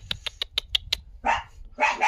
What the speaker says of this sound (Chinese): 这只狗狗就是有病了，小狗狗别怕哈，我带你回家哈，给你检查